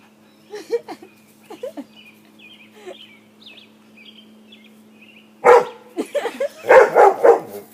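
A dog barks several times in short bursts, fairly close, with quiet chirps and a soft voice earlier before the louder barks.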